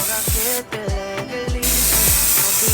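Adhesive sprayed from a can onto insulation for a van conversion, a short hissing burst under background music with sung vocals and low thumping beats.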